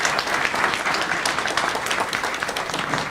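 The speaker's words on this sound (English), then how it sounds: "So a big round of applause to everyone." A museum event audience at ICA San Diego gives a sustained round of applause, dense and steady clapping from many hands throughout, with no talk over it.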